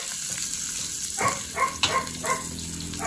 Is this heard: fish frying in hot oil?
yes